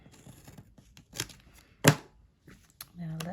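Scissors cut paper cardstock for a Stampin' Up! gift card holder, giving a few quiet close snips and rustles, with one sharp louder cut near the middle and a voice briefly at the end.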